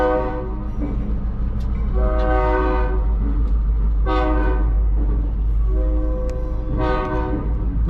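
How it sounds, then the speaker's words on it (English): An old locomotive's horn blasts loudly in long, repeated notes over the heavy rumble of the passing train, close and dominant throughout. "Nothing like an old locomotive horn."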